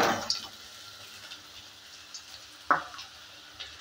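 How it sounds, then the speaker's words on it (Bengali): Soybean chunks fry in hot mustard oil, a faint low sizzle broken by a couple of sharp stirring clatters, one at the start and another midway. "প্রথমে আমি সয়াবিনগুলোকে ভালো করে ভেজে নেব।"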